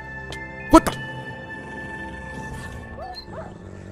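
Wolves in the Minecraft video game give a sharp double bark near the start, followed by a couple of soft yips, with background game sounds and possible faint voices.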